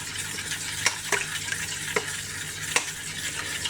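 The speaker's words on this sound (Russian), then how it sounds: "И еще тщательно перемешиваем. Чтобы мед полностью растворился." A spoon stirs a honey and banana cough remedy mixture in a container, giving soft wet swirling with a few light clinks against the sides.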